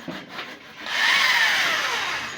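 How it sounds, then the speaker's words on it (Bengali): A power drill bores holes in wood at a village house under construction, its whine rising after a brief quieter start and holding steady, fairly faint and alone. "এই যে ড্রিল মেশিন দিয়ে ফোরা করতেছে"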